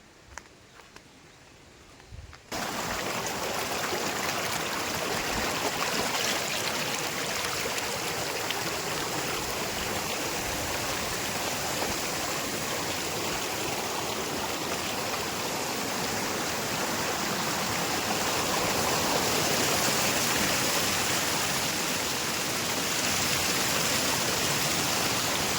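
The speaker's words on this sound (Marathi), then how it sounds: "पाण्याचा आवाज ऐकू शकता तुम्ही" A swollen stream in the Konkan rushes loudly after a night of heavy rain, a dense continuous roar of flowing water that starts abruptly after a quieter opening moment and holds steady throughout.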